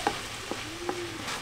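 Meat searing in a hot pot for chili con carne, a soft steady sizzle with a few light scraping or stirring knocks, close but fairly quiet and without speech.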